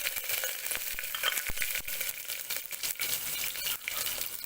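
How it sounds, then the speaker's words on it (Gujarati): Curry leaves and chilies crackle and sizzle in hot oil with popping mustard seeds and cumin over a low flame, a steady close hiss broken by scattered sharp pops. "લીમડાના પાન અને મરચાં ઉમેરીશું."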